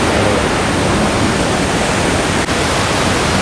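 Water roars through the fully opened shutters of Maniyar dam in Pathanamthitta, Kerala, a loud, constant broadband rush with no breaks.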